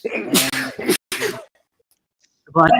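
A couple of sharp sneezes burst out close by, followed by a short silence and then a voice starting to speak.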